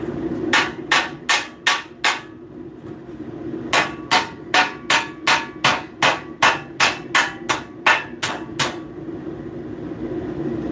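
Sharp metallic blacksmith hammer strikes on metal ring out in quick rhythmic bursts, two runs of blows separated by a short pause, over a steady background hum.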